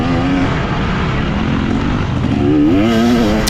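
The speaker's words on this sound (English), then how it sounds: "We give her a little bit of throttle there, trying to clear out that old piece of crap back tire" A dirt bike engine revs hard during a race, its loud buzzing drone rising and falling in pitch, close and continuous throughout.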